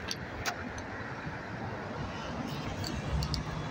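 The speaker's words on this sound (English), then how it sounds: "Yeah, that's a lorry." Lorry rumbling past at Doncaster bus interchange, a steady broad roar of traffic throughout with a few faint clinks on top.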